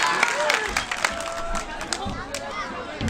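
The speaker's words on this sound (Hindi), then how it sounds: "एक बार जोरदार तालियां बजा दीजिए उनके लिए" An audience at an outdoor Urdu poetry mushaira in India claps in an uneven burst of applause, with crowd chatter and a voice over the clapping.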